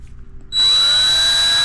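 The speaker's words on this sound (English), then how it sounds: "Let's go ahead and drill this out right quick." A power drill spins up abruptly after a brief quiet moment, then whines steadily at high pitch, close by, drilling a small hole for guitar tuners.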